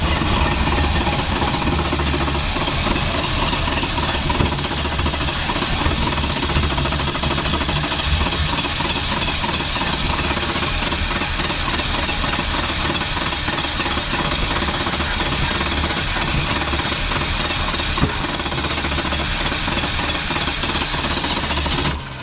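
An old car engine runs rough on gasoline at least three months old, a loud, steady, close-up clattering drone that continues unbroken throughout, with no voices.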